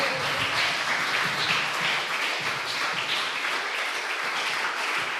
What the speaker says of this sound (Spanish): Bríndele un fuerte aplauso al Señor.